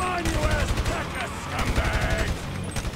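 Rapid gunfire bursts in GTA V, a near, continuous fusillade of repeated shots with voices talking over the shooting throughout.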